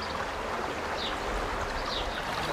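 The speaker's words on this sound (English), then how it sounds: "Sloped water channels allowed water to flow freely." Water flows steadily along sloped stone channels in the Alhambra gardens of Granada, an even, continuous babbling rush with no voices.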